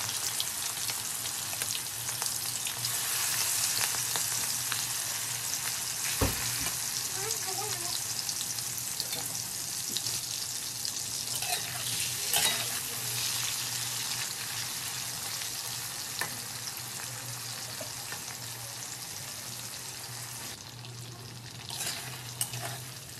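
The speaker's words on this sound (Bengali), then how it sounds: "এবার আমি ম্যারিনেশন করে রাখা চিংড়ি মাছগুলোকে ভেজে নেব" Marinated shrimp fry in hot oil, giving a loud, dense, steady sizzle that crackles and spits continuously close by, with occasional sharper pops.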